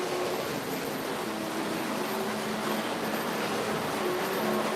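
O scale Milwaukee model train running slowly on the track with a string of cars behind it, a steady close rumble and clatter that holds even for the whole stretch.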